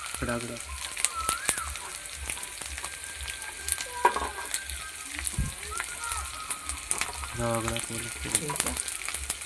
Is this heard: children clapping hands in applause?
no